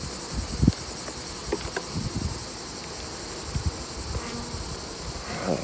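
Honeybees hum and buzz around an open beehive frame in a dense, continuous drone, close by, with light rustling and handling bumps mixed in.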